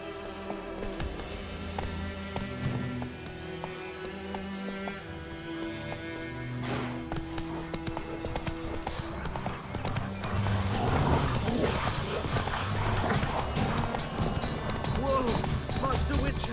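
Horse hooves clip-clopping at a steady gallop in The Witcher, with a whinny, set against game music and ambient layers; a voice speaks over the hoofbeats.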